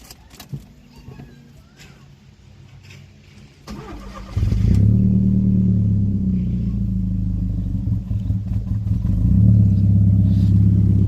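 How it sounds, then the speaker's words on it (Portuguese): An Audi A3 230cv turbo engine starts after some quiet handling noises, then settles into a loud, deep idle with rising revs toward the end; the turbo flutter itself is not clearly distinct. "agora eu vou ligar o carro, dar umas aceleradas e vamos ver aí como que fica isso"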